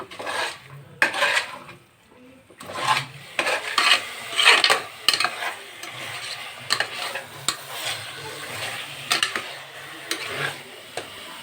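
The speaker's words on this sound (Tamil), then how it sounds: "சிக்கனை சேர்த்துட்டு நல்லா கிளறி கொடுக்கணும்." A ladle scrapes and clinks through chicken in a pot for biryani, with repeated stirring strokes and metallic taps over a light sizzle, close and steady with no talking.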